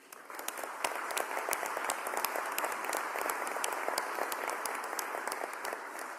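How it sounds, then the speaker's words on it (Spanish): An audience claps after a political speech about passing a law. Individual sharp claps stand out within steady crowd applause that holds at a moderate level throughout. "el aplauso es para ustedes por esa altura de miras que tuvieron para la aprobación de esa ley"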